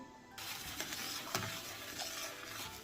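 Varenyky dumplings are stirred in boiling water left from cooking potatoes, giving a steady churning, bubbling wash with a few sharper swishes and no voices.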